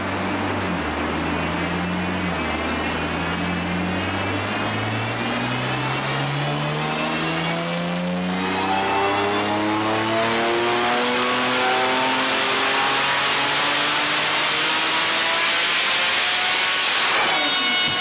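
A Porsche 911 Turbo S making roughly 1,000-plus horsepower on a dyno, run on pump fuel settings: a loud, sustained full-throttle pull with engine pitch climbing steadily, ending in a roaring hissing blast at high revs.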